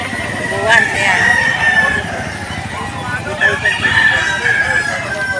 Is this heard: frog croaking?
no